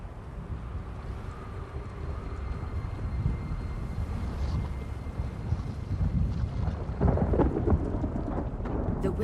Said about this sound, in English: Cool rain on my scales.